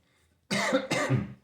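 Two quick, harsh coughs in close succession, loud and near, after a moment of near silence.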